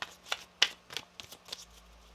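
A deck of tarot cards being shuffled at close range, with quick riffling bursts coming in several separate, uneven waves over a quiet background.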